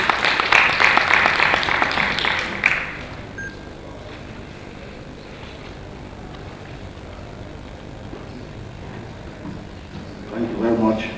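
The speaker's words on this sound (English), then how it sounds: "Can we give him a round of applause, please?" Crowd applause at a National Diaspora Day session bursts out for a representative, busy and fairly loud for under three seconds, then drops away to a quiet, murmuring room with some movement and a brief rise near the end.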